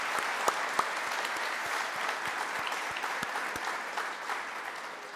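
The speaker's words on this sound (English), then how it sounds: "So just one huge round of applause for all the work you've done to get us here today." An audience claps steadily at a ribbon cutting launch event, a dense even applause close by with a few louder individual claps standing out early on.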